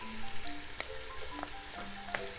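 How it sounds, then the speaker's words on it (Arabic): Onion and garlic fry in a pan for a fish sayadieh, giving a steady crackling sizzle with a few brief utensil clicks and scrapes, heard close with no speech. "رح نحط البصل، رح اتركه لحد ما يسود. لحط فوق هون الثوم"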